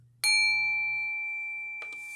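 A bell struck once, giving a sharp bright ding that rings on with a long clear sustain and slowly fades, followed by a light knock near the end.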